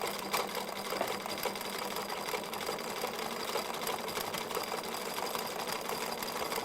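An embroidery sewing machine stitches orange and blue thread around a heart design, a fast, even whirring patter heard close and fairly quiet throughout, with no talking.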